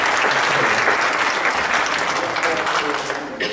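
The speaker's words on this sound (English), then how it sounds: "would you just give her a round of applause?" Church congregation applauding during a Sunday morning service, sustained dense clapping that swells and carries on for several seconds before trailing off.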